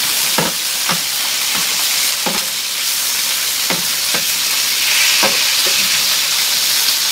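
Shrimp are pushed around in a pan of sizzling paella cooking on a Big Green Egg grill, giving a loud, steady frying hiss broken by repeated scraping taps from the utensil, with no talk.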